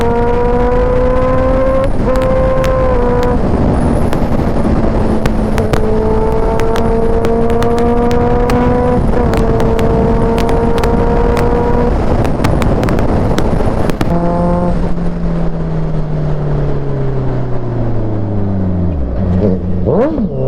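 A Honda CBR650F sportbike's exhaust drones loud and continuous while riding, its engine pitch rising through the gears and dropping between shifts, then falling away as the bike slows near the end.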